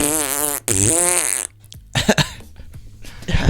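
Two long, buzzy fart noises run back to back and fill the first second and a half. Scattered rustling and short noises follow, with no clear talking.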